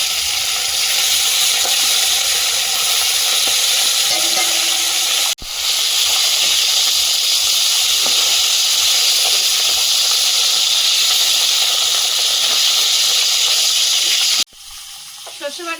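Fish frying in hot oil for a Bengali mustard fish recipe, a steady loud hiss and sizzle running throughout with a brief break midway and a sharp cut near the end.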